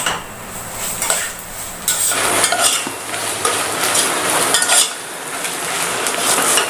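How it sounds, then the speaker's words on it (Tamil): Ginger and garlic sauté with onions in a hot pan, a steady loud sizzle broken by repeated spatula scrapes and stirring strokes, with no voices. "இஞ்சி போட்டு 20 செகண்ட் வதக்கியிருப்போம்."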